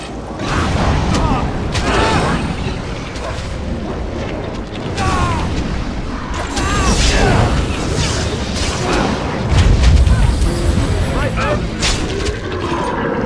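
A Walking Bomb spell in Dragon Age: Origins going off amid fantasy combat: repeated heavy booms and bursts over clashing mechanical battle noise, loud and close throughout, with deep rumbling peaks near the middle and toward the end.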